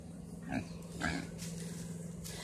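A pet pig lets out two short low grunts, close by and moderately loud, over a steady hum and faint background noise, with no talk during the sounds.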